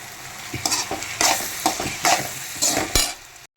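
Ginger garlic paste fries in a pan, sizzling loudly as a spoon stirs it in several scraping bursts. It stays close and continuous with no talk over it.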